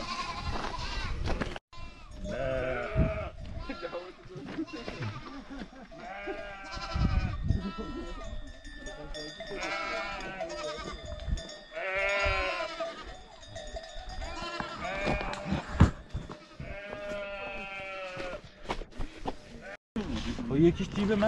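Little goats bleat repeatedly in short wavering calls close by at a camping spot, with people talking over and between the cries.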